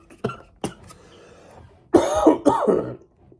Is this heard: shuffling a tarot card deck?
no